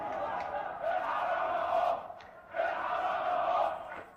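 Thousands of protesters chant in the streets of Egypt against President Hosni Mubarak, with two long, loud rhythmic swells of massed voices broken by a brief dip.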